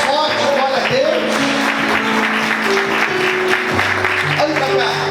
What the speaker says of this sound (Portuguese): Aplauda o Senhor mais forte, glória a Deus.